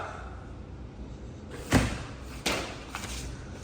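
Someone knocks on an apartment unit door under renovation, giving a loud hollow thud followed by a second, lighter knock and a faint tap, heard close against a quiet room.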